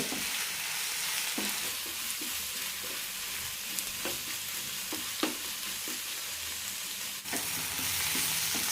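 Sliced onions sizzle steadily in a pan as they shrink and caramelize for an all-purpose curry gravy, with occasional sharp scrapes and taps of a spoon stirring them, close and continuous with no talking.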